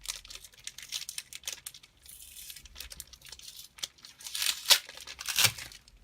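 Sticky tape is peeled and torn off Pokémon card packaging in short crackling, crinkling bursts, with louder rips toward the end, close up and without talk.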